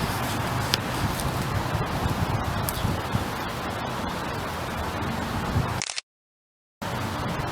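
Steady wind blowing outdoors in an open area, a continuous even hiss like rustling air, close and moderately loud, cutting out briefly near the end before resuming.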